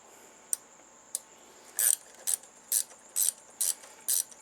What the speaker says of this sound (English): You gotta get a wrench to tighten this thing up.